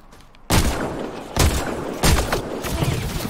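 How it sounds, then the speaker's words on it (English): Gunfire from a Mass Effect Andromeda combat scene, with loud bursts of rapid automatic shots starting suddenly and repeating in several close, dense volleys. "Thanks for the covering fire."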